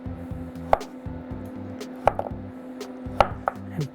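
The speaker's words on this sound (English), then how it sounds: "Finely chop that up" A knife finely chops garlic on a cutting board in a home kitchen, a few sharp, separate knocks spaced across the moment over a steady low background hum.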